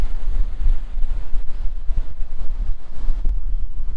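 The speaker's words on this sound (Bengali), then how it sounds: "দারুণ ঢেউ দিচ্ছে, হাওয়াও খুব হচ্ছে।" Strong seaside wind at Digha beach buffets the microphone in a continuous low, rumbling roar that surges and dips, loud and close, with a faint wash of surf beneath and no voices.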